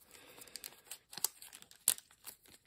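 Package packaging being torn open and crinkled by hand, a run of irregular sharp rips and crackles with a few louder tears, close and alone.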